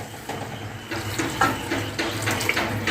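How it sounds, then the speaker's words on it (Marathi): Water poured from a tambya into a cooking pot of bottle gourd curry with dal, a close, splashing gush that runs steadily for a few seconds with uneven surges. "मी 1 तांब्या पाणी घातलेलं आहे"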